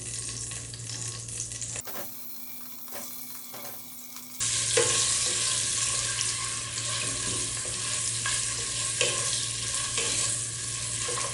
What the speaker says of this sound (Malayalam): അതിലേക്ക് നമുക്ക് ഈ മുട്ട ഇട്ടൊന്ന് ഫ്രൈ ചെയ്തെടുക്കണം